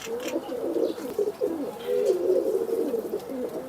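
Tournament racing pigeons cooing close by, a continuous overlapping series of low, throaty rolling coos from several birds, with faint higher chirps and rustle in the background.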